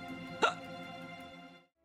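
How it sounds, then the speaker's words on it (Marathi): One sharp hiccup pops out over a steady, sustained tonal background, then the background fades to silence. "मला उचकी लागली."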